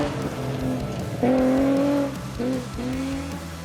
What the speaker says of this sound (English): The Beamer's a fun car to drive